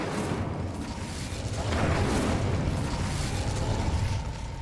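Incendio fire spell cast in Hogwarts Legacy, a roaring whoosh of flame that swells into a heavier burst midway and keeps rumbling loudly to the end.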